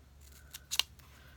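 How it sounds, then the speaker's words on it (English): Scissors snip through folded craft foam for a card project: a couple of quick, close, crisp cuts in a quiet room, with no speech. "I folded it in half, and then I cut it."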